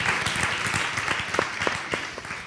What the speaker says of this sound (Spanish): Un aplauso para Ronda que pasa el micro per esti